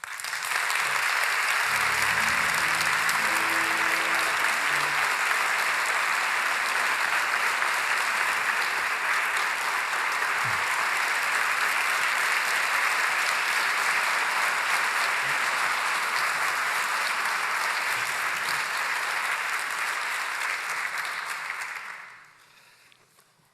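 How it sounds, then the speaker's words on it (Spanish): A large audience at the Ocultura 2023 conference welcomes a speaker with loud, sustained applause that holds steady for over twenty seconds before cutting off abruptly. "Les pido, por favor, que reciban con un aplauso muy fuerte a Dolores Redondo."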